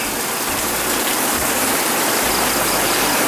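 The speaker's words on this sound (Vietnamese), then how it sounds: "Mưa rất to." Heavy rain in Tri Tôn, An Giang, pouring in a loud, dense, unbroken hiss with low patters and rumbles underneath, close and steady with no talk.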